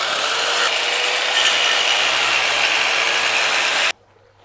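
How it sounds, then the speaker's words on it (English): Timber supports being cut by hand saw, a loud, continuous rasping rush of close sawing that stops abruptly near the end, leaving quiet room tone. "now I'm going to cut timber so that it supports on each side."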